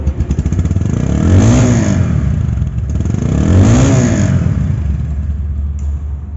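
A second-hand 2023 Bajaj Pulsar double-disc ABS motorcycle revved twice in quick succession, each rev climbing to a loud, rising roar and falling back to a clattering idle, heard close up with no talk.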